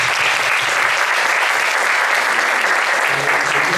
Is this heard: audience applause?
yes